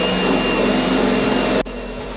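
Wire wheel grinding adhesive off an aluminum Lowe jon boat hull, a loud steady broadband whir held close up that cuts off abruptly near the end, leaving a quieter hum.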